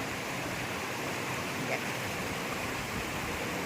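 Water of the Rolly river in Kalimpong rushes steadily, a dense, even wash of flowing sound that holds at a constant level throughout, close and continuous with no voices over it.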